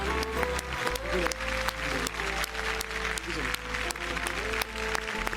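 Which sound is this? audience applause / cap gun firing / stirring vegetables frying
audience applause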